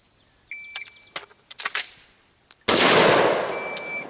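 A single loud shot from an AR-15 rifle with a short 7.5-inch barrel, bursting in sharply after several quieter clicks and handling knocks, with a long echoing tail afterward.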